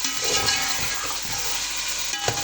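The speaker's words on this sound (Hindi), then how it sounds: "अब मैं इन तमाम चीज़ों को अच्छे तरीके से मिक्स कर रही हूँ" Green chickpeas and green chillies stirred in a frying pan, a steady close sizzle with soft scraping strokes of the spoon running throughout, no voices.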